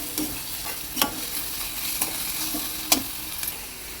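Something roasting in a kadai still oiled from frying chips, a steady soft sizzle broken by several sharp scraping stirs of the spoon against the pan.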